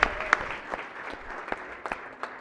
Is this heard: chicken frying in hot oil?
no